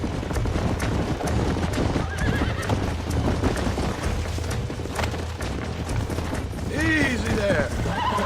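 Horse hooves clop steadily on the ground in the game Red Dead Redemption, and a horse neighs loudly near the end, over a continuous outdoor backdrop with a voice in places.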